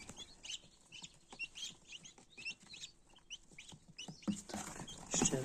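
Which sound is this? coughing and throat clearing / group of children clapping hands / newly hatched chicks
newly hatched chicks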